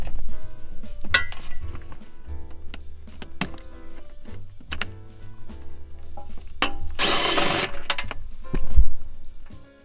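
Power tool spinning off 10 mm nuts on the cooling fan of a Toyota Camry Hybrid, heard as short whirring bursts and metallic clicks and clinks, with one longer loud buzzing burst near the end, close by and no speech.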